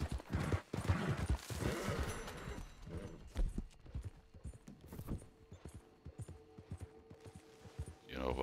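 Horse hooves clip-clopping in Red Dead Redemption 2 Online, an irregular series of close, moderately loud hoof clops and thuds, busier at first and then spacing out, with other game noises mixed in.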